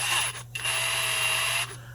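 A DCK brushless 1/2-inch hammer drill runs in drill mode with a steady high motor whine, close and fairly loud, briefly dipping once before carrying on for about two seconds.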